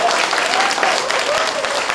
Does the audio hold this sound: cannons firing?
no